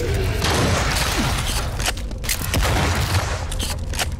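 Shotgun fire in the retro shooter Wrath: Aeon of Ruin, a dense run of heavy booming blasts back to back, loud and close, filling the whole stretch with little pause between shots.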